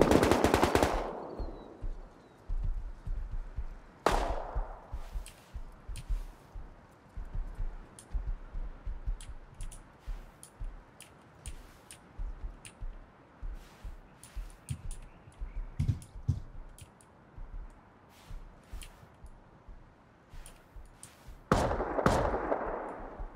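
Shotgun traps fire in an online survival raid game, with a few loud sharp blasts at the start, near four seconds and near the end, plus scattered quieter clicks and pops between them.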